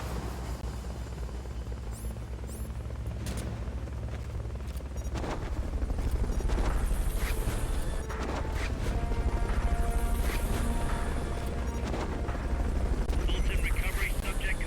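Helicopter rotor noise from the Metal Gear Solid: Peace Walker video game, a continuous loud whirring drone throughout, with game sound effects and voices over it.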